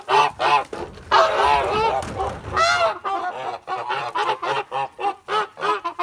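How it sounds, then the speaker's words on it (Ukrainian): Domestic Kholmogory geese by a stream honk repeatedly and loudly at close range, a busy overlapping chorus of harsh nasal calls with brief pauses between bursts. "Ну ось такі то наші гуси."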